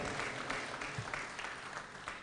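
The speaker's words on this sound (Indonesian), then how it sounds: "Tepuk tangan sekali lagi untuk Dewan Pertimbangan Partai Demokrat." Audience applause at a Partai Demokrat political event, honouring the party advisory council, heard as a fairly faint, steady patter of many hands clapping in a large hall.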